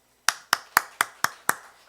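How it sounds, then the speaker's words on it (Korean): Six sharp hand claps land at a steady, quick pace during a church teaching session, evenly spaced and close, with no talk over them. "저분 박수 쳐줘요."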